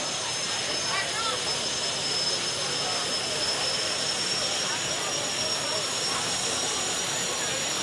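A steady, loud turbine whine with broadband engine roar from a helicopter turbine engine in a pulling tractor at a county fair tractor pull, holding constant throughout without pauses.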